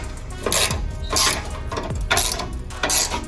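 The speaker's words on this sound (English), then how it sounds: "So grab the ratchet and go ahead and suck it tight one at a time." A hand ratchet snugging fog light mounting bolts on a stock Ford Bronco bumper gives several bursts of rapid metallic clicking at close range. The bursts come in short spaced runs with brief pauses between them, and no one speaks.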